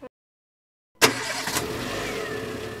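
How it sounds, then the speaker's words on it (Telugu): A car engine in neutral cranks and catches after a second of silence, then settles into a steady, close idle with a slight rev. "అది న్యూట్రల్లో పెట్టి కార్ మళ్ళీ ఆన్ చేయి."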